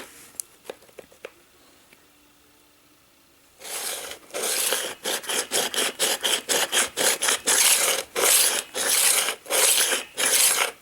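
Berghman hand skate sharpener worked over the blades of CCM 952 hockey skates, giving a steady series of loud, rhythmic rasping strokes, each a short scraping burst, after a few seconds of quiet handling clicks.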